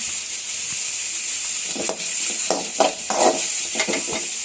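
Spices sizzle in a pan over medium heat while being stirred for a homemade sambar, a steady bright frying hiss broken by scraping strokes of the spoon against the pan, close and loud with no talk.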